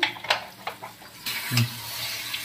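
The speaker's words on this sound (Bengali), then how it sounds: "আর কিছুক্ষণ ভালো করে কষিয়ে নেব" Spiced pangas fish with salt and turmeric sautéing in oil in a pan, a soft sizzle with a few scraping stir strokes, then a louder burst of frying near the end.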